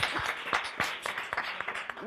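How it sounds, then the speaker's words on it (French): Audience clapping at a French-language live show, a scattered burst of claps from the crowd with voices talking over it throughout. "Applaudissez pour nous, s'il vous plaît."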